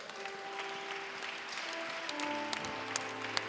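Church congregation clapping and acclaiming the Lord during a French-language prayer service, a steady wash of applause at moderate level with sustained tones from voices or music running underneath.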